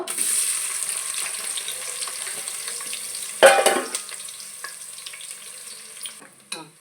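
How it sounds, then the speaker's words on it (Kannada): Sliced onions sizzle in hot oil in a pan, a steady close frying hiss that briefly surges and fades as the pan is stirred. "ಈಗ ಎಣ್ಣೆ ಕಾದಿದೆ ಇದು ಇದಕ್ಕೆ ನಾನು ನೀರುಳ್ಳಿ ಹಾಕ್ತೇನೆ ಸ್ಲೈಸ್ ಮಾಡಿದ್ದು"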